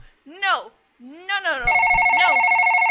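A telephone rings in the horror video game One Late Night: a steady electronic trill cuts in after about a second and a half of shouting, then keeps ringing loudly while the shouting goes on.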